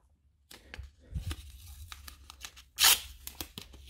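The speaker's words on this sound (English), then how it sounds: "I'm gonna tear off a piece of tape." Blue masking tape being pulled and torn off the roll, a few close rasping peels building to one loud sharp rip near the end, with quiet handling crinkles between and no speech.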